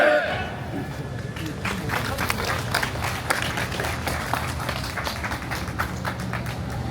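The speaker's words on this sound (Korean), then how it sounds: "다시 한번 뜨거운 박수 부탁드리겠습니다." A crowd at a union strike rally claps together in dense, steady applause, moderately loud and sustained throughout, with faint chatter mixed in.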